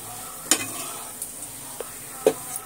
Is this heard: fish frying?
yes